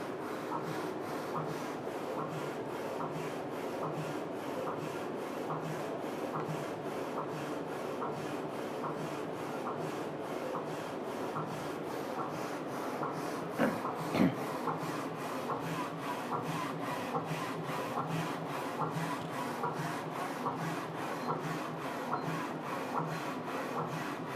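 A Focus Alpha-Jet UV flatbed printer runs steadily nearby with a continuous mechanical whir and faint rhythmic rubbing of the moving carriage, and one brief louder knock partway through.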